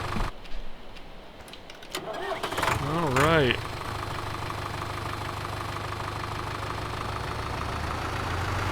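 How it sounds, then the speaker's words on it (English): Diesel tractor engine in Farming Simulator 2013 cranking with a wavering starter whine, catching, then settling into a steady low idle rumble; a voice speaks briefly over the start. "Sounds like a diesel."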